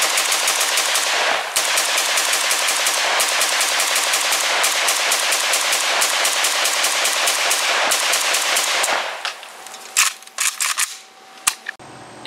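An RPK-74 light machine gun in 5.45x39 fires a long, loud, rapid burst of evenly spaced shots, then a few isolated shots and clanks follow after the burst ends.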